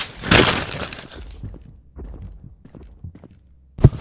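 Heavy monster footsteps in the horror video game The Mimic: a loud crash-like impact at the start, then a series of irregular, muffled thuds fading in and out, with another sharp hit at the end.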